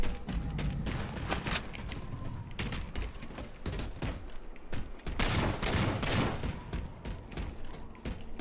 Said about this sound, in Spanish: Escucho balazos por acá